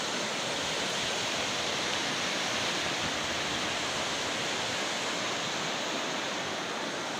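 Water rushes out through the overflow channel of a watermill in Kashmir whose mill wheel is shut, making a steady, loud, broadband roar close by with no pauses.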